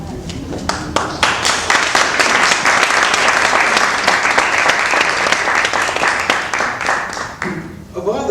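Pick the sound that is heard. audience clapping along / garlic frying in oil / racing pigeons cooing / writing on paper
audience clapping along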